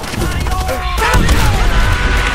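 Call of Duty: World at War combat: dense, continuous gunfire and machine-gun bursts mixed with booming bomb explosions, loud and sustained throughout, with a sharp heavy blast near the middle and faint voices buried in the din.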